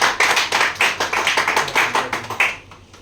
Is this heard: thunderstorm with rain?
no